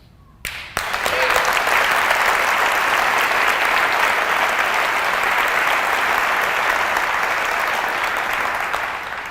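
A studio audience bursts into loud, sustained applause that starts abruptly and holds steady for several seconds before easing slightly at the end.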